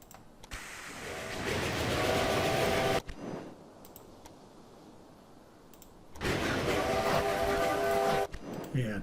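Trains running in the railway management game Railway Empire: two long, loud stretches of locomotive rumble with steady whistle-like tones, split by a quieter few seconds in the middle.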